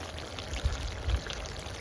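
Cooked beans are poured into a kazan for plov over an open campfire, giving a quiet, short pouring sound with two soft dull thumps.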